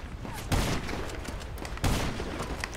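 Gunfire in GTA Online comes as two loud, sharp volleys about a second apart, each trailing into a rattling decay over a constant noisy game background.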